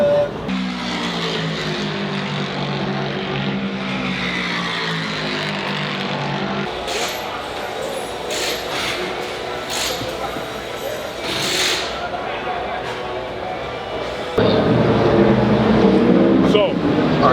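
A race car laps Daytona during an IMSA session, its engine rising and falling in pitch as it passes, with a louder close pass near the end, while people talk over it.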